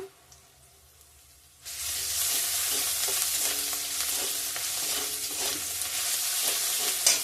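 Dried red chili, bay leaf, cumin seed and crushed ginger hit hot oil for a fish curry, a quiet start giving way to a sudden loud, steady sizzle with scattered crackles and the faint scrape of stirring.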